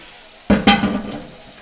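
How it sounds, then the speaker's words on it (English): A skillet of leftover ground beef being scraped out over a sink drain: two quick close metallic clanks followed by a short ringing scrape that fades within a second. "Clean out my skillet, all the excess meat down the drain"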